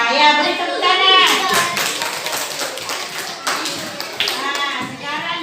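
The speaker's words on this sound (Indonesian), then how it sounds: "beri tepuk tangan." Schoolchildren in a classroom clap their hands after a group sings a song about planting corn, a short burst of uneven, close claps with children's voices and chatter mixed in.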